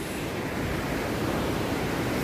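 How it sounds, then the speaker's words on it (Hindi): The Beas river in Manali rushes at night in a dense, steady roar, loud and unbroken with no other sounds above it. "आवाज सुनो नदी की, क्या मतलब नदी का शोर"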